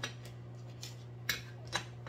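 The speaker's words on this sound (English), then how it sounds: "So we're gonna cut our lime up." A knife cuts up a lime on a kitchen board, giving a few faint, sharp chopping clicks spaced apart over a steady low hum.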